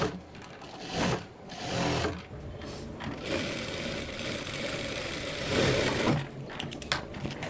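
Sewing machine stitching the sides of a princess cut blouse, a close, continuous mechanical hum and rattle that rises and dips in pitch over the whole stretch, with no talk.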